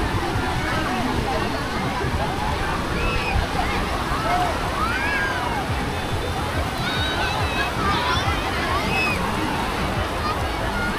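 A crowded beach at Bai Chay, Ha Long, with many people swimming: constant sloshing water and splashes under a dense wash of overlapping voices, loud and unbroken.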